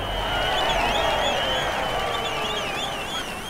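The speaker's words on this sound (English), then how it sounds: "let us cheer him to show our appreciation" A crowd cheers and applauds in the video game Road 96, a broad roar of clapping and whistles holding at a steady level for several seconds.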